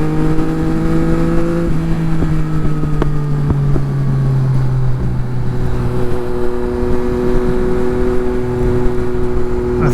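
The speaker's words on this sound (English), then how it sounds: "holy crap, those pops are really loud now" A Yamaha MT-09 motorcycle runs steadily throughout with a droning engine tone, while several sharp exhaust pops crack out near the middle, close and loud over some wind noise.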